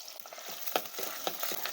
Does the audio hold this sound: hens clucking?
no